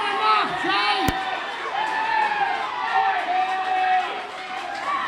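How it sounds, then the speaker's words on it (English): A wrestling crowd at a live event cheering and booing, a dense mix of shouts and whoops from many people, with a sharp bang near the start and voices over the crowd. "Half of them are cheering, half of them are booing."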